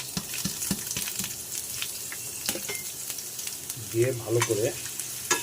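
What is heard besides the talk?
bottle gourd peels frying in hot mustard oil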